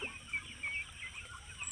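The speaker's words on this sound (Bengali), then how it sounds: "এই যে কিছু মুরগি আছে" Chickens on a duck farm cluck softly and intermittently in the background, faint short calls against an open outdoor setting.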